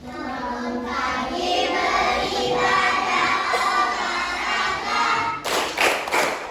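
Children in a classroom clap and chant together through a lively group clapping routine, with steady rhythmic claps and voices blending throughout and a burst of sharper claps near the end.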